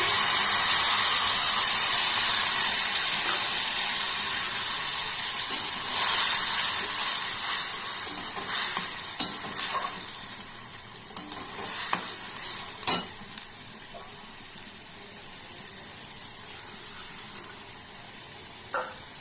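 Bay leaf and spices hit hot oil in a pan, giving a strong, steady sizzle that starts loud and slowly eases, with a few clinks and stirring scrapes near the end, no voices.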